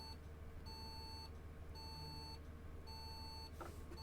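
Turn indicator of a Studio Polygon 400MMC bus in the OMSI 2 simulator, steady repeating electronic beeps at an even rhythm, each followed by a small click, over a low engine hum.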